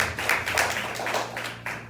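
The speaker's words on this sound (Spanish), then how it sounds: "Dale un aplauso al Señor." Clapping from a church congregation during a Sunday service, a steady run of rhythmic hand claps at moderate distance, with a low sustained hum underneath and no speech over it.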